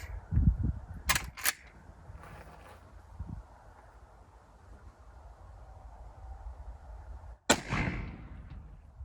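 A Winchester Model 1886 lever-action carbine in .45-90 fires a handloaded smokeless cartridge outdoors, with a sharp nearby shot early on, a quiet windy gap, then a second loud report echoing away.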